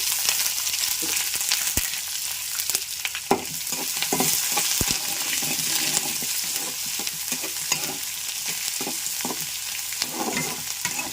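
Onion pieces frying for a raw banana fry, a loud continuous sizzle close by with repeated stirring and scraping in the pan throughout.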